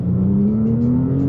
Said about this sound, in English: Car sounds pretty decent, man.